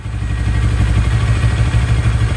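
A CF Moto CLX 700 motorcycle engine runs freshly started after an oil change, a steady, loud, close idle with a low, even throb and no voices.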